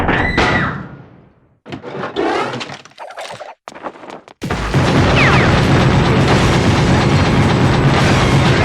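Explosions in the PS2 video game Gungrave, a series of loud booms and crashing debris that end in a dense, sustained roar of blasts and wreckage.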